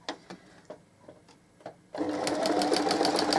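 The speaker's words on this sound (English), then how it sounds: "So I'm going to be sewing all the way around." A sewing machine stitches around the edge of a cushion cover: a few soft ticks of the mechanism, then a steady close, rapid whirring run of stitching that continues to the end.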